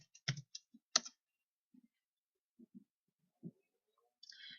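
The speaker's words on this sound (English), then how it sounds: "I'm going to type in herniated disc," A computer keyboard is typed on to enter a search query: a few close, crisp keystrokes in short bursts, then sparse, quieter taps with pauses between them, and no talking.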